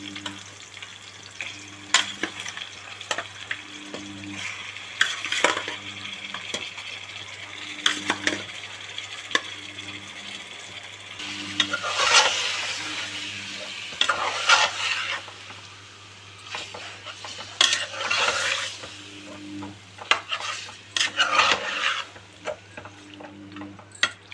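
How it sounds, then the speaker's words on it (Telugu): Chicken pieces fry with browned onions for a coconut and poppy seed chicken curry, a steady close sizzle broken by repeated metallic scrapes and clinks of a spoon stirring the pan. "ఇప్పుడు చికెన్ వేసుకున్నాం ఆనియన్స్ బ్రౌన్ కలర్ అయినాయి చికెన్ వేసుకున్నాం"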